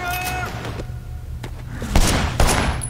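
Gunfire in the open-world game Sleeping Dogs comes as sharp shots, with two heavier bangs near the end over a busy game soundscape.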